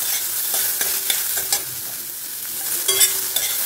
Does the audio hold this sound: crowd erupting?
no